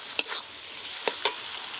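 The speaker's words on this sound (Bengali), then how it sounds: "এবার মশলা মাখানো মাংস দিয়ে দেবে" Spice-marinated chicken for biryani hits a hot pan, producing a quiet, steady sizzle broken by a few brief utensil clicks.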